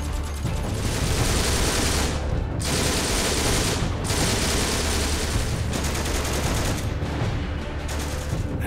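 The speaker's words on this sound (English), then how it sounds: "The handling of the mounted machine gun has been improved with a better third-person mode" A mounted machine gun in the World War II game Heroes and Generals fires loud sustained bursts, long rattling volleys broken by short pauses, with no talking.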